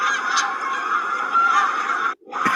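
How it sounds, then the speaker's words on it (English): A flock of geese honks continuously while flying south, a dense overlapping chorus of nasal calls that fills the whole stretch, with a brief break near the end before the honking resumes. "Those are the geese flying south."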